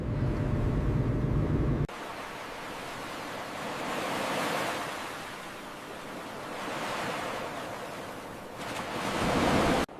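Sea waves wash onto a seashore, a steady broad rush of surf that swells and recedes in slow surges, loud and close, with no voices over it.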